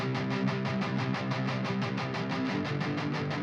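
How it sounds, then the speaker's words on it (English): A rock guitar through a Neural DSP amp sim, a dense, heavily distorted tone chugging in a fast, steady palm-muted rhythm, full and close with no voices. "Here's the guitar tone we're working with."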